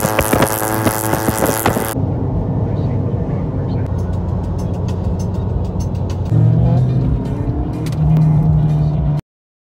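At a Louisiana cars and coffee meet, cars drive out past in a loud, continuous engine rumble with rising revs. A sharp noisy burst opens the sound, and a sustained drone follows near the end.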